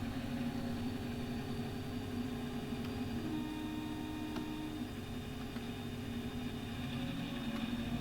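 A locomotive engine in Train Simulator Classic on the Midland Main Line through the Hope Valley, its steady diesel drone and hum notching up to power on a hill, continuous and moderately loud with no talk.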